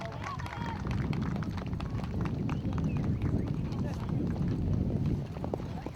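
Hooves pound rapidly and continuously as horses gallop past at an equestrian competition in Karachevo village, Kozlovsky District, a steady drumming rhythm under a voice talking over a loudspeaker.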